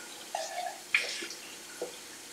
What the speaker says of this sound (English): I'm gonna put my artichokes in, strain out that water.